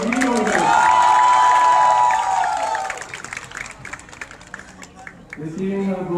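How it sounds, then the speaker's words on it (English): A hall audience at a university convocation applauds graduating computer science students, a dense wash of clapping and cheering that swells, then thins to scattered claps before fading under a voice. "Computer Science students, please show that you applaud your degree holders"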